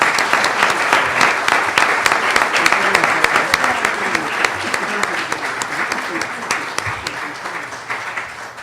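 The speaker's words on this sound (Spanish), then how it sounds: "Pedimos un aplauso para la licenciada María Concepción Hinojosa Velasco." An audience claps for a speaker at a genealogy conference, sustained, crisp applause with dense overlapping hand claps, steady and close, tapering slightly near the end with faint crowd murmur beneath.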